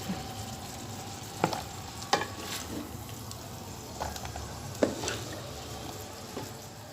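Mixed vegetables softly sizzling in a pan over a low flame while cooking for fried rice, a faint steady crackle with occasional light clicks and clinks of a utensil.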